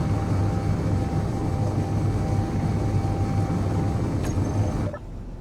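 Spaceship thrusters in the Space Engineers video game give a steady, loud engine-like roar and hum that drones on evenly, then abruptly cuts off near the end.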